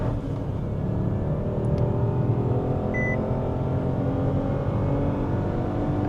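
A Renault Duster 1.0 Turbo with the AC off launches hard from a standstill in first gear with the clutch dumped and wheels spinning, a steady loud engine drone with road roar heard from inside the cabin.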